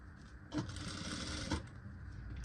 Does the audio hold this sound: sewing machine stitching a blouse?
yes